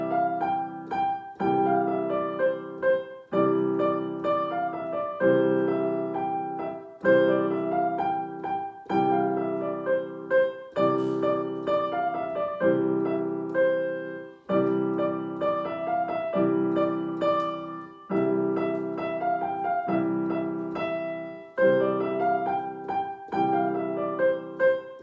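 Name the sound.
piano played along with slower macro beats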